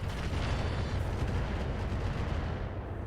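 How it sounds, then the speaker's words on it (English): Mech weapons pounding a target in RogueTech, a dense, loud wall of booming blasts and crackling impacts that rolls on without a break for a few seconds. "Firing on target."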